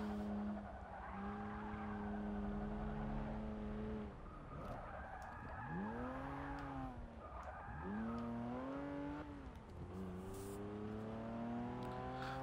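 Porsche 914 racing in Forza 6, its engine note rising and falling through gear changes with repeated sweeping pitch bends as it brakes and accelerates, loud and steady throughout with tire noise beneath.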